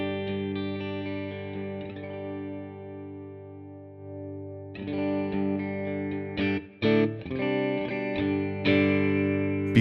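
Clean electric guitar chords through an amp modeler ring out with sustained, shimmering tone, strummed a few times and left to ring, no one speaking.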